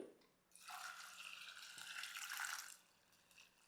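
Water pours into a pressure cooker holding sprouted moth beans with turmeric and salt, a steady splashing stream lasting about two seconds before tapering off, close and fairly quiet, with no talk.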